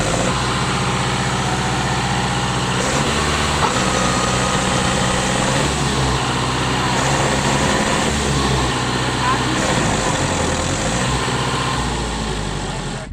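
A tractor stuck in a wet farm field runs its engine hard, a loud, steady diesel drone with shifting revs throughout, while someone talks over it.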